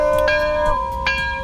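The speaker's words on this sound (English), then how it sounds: "Somebody ring the bell." A bell rings as a sound effect during a walkaround of a 2008 Ford Explorer RWD V8 Limited. Two clear, sustained, ringing tones are heard close up and loud.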